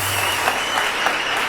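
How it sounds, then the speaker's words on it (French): Studio audience clapping steadily for a guest on a French talk show, a dense, continuous burst of applause with no voices over it. "On va applaudir s'il vous plaît encore"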